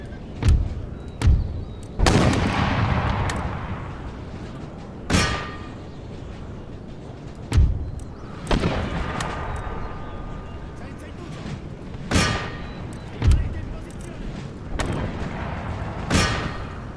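Cannon artillery in Empire Total War fires repeatedly at a fort wall, sharp booming blasts every second or two with rumbling decays, while someone talks over them.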